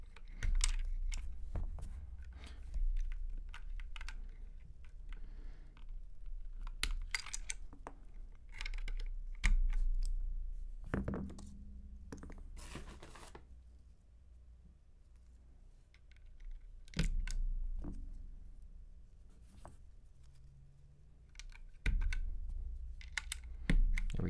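Someone types on a newly built Planck V6 high-profile mechanical keyboard fitted with Silk Black switches. Irregular bursts of crisp key clacks run through quieter pauses, close up, with no talking.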